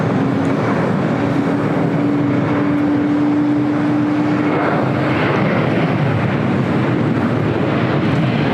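A jet airliner takes off at LAX with a loud, continuous roaring engine rumble and a steady whine that stays strong throughout, close by, with no voices.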